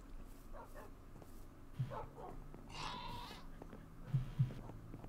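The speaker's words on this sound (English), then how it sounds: "Asbestos, the world's most charming, screaming goat" Screaming goat in Minecraft, a few faint bleating cries and a strained wavering scream heard at a distance, mixed with low game background and brief dog-like yelps.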